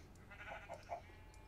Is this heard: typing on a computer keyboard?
no